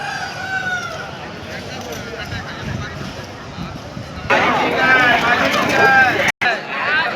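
Roosters crow repeatedly at a busy Sunday fighting-cock market opposite the Pileru bus stand, long rising calls overlapping in a loud, crowded scene with constant chatter of people talking all around.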